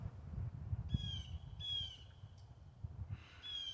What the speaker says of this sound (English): You got the birds chirping out here